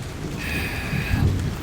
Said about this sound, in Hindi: ये क्या, बारिश कैसे आ गई?